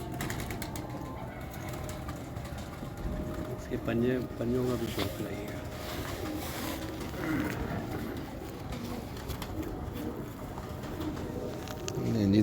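Soft cooing from a fancy-breed pigeon repeats in short bursts at moderate distance while someone talks over it, with faint clicks and handling noise around.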